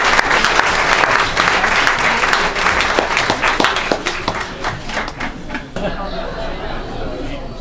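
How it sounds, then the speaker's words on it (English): Loud applause at a Republican Party Lincoln luncheon, with close, distinct claps and voices chattering over it. The clapping thins into scattered claps and then fades out. "Give him a big round of applause."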